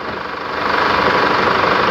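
A Chevrolet Trailblazer engine idles after an air conditioning refrigerant refill, with a steady low rumble and rapid mechanical pulsing, growing slightly louder after a moment, close by and continuous.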